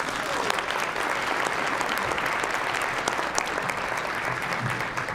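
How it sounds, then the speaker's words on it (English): Sustained, full applause from a large audience at a Boys & Girls Club fundraising gala honoring sponsors, an even wash of many hands clapping at a steady level, with faint crowd murmur underneath. "Can we give them a round of applause?"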